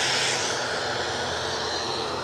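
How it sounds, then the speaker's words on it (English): A Cessna Citation CJ3 Plus business jet, a Cessna 525B, runs at Edinburgh airport as a steady, faint, hissing engine rush, heard alone in a short stretch. "Citation CJ3 Plus on its way to RAF Northolt."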